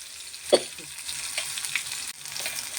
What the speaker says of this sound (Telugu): ఇలా కలిపి ఫ్రై చేసుకోవచ్చు.